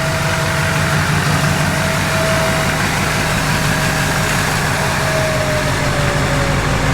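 A Duramax diesel engine swapped into a K20 truck runs steadily, a loud close drone with a constant low rumble and no talk.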